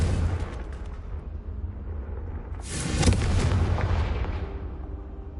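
A Confringo blasting spell detonates in a Harry Potter video game, a sudden loud booming burst partway through that rumbles and fades slowly, over a low continuous background hum.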